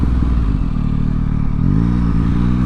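A Yamaha MT-09 motorcycle engine, running after an ECU recall update, accelerates with a loud, close, throaty drone whose pitch climbs and shifts through the revs.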